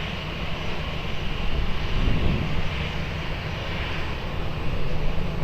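Airliner at Lisbon Airport cleared for takeoff on runway 20, its engines giving a steady, broad roar that swells slightly midway and holds without pause, heard at moderate distance with no talk.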